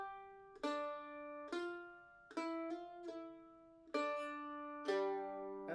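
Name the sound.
mandolin playing a lick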